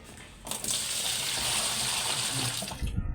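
Water gushes steadily out of a single tub washing machine as it drains, a loud continuous rushing flow that starts abruptly and runs for a few seconds before cutting off.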